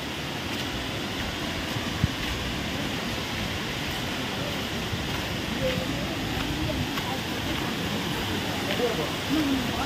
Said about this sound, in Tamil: அருவிக்கிட்ட வந்துட்டோம் வந்துட்டோம் வந்துட்டோம்.